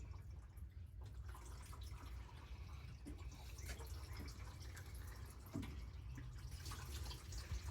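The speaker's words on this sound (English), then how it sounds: "So really need to finish getting the coolant out" Coolant draining from a C10 truck falls with quiet, irregular drips and small splashes, faint against a low background rumble, a few louder plops standing out.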